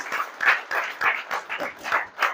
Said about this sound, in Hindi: जोरदार ताली होना चाहिए सबके लिए